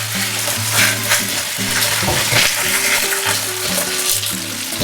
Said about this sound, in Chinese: 两面都煎到这种漂亮的金黄色，并且完全熟透